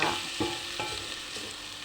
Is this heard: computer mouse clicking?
no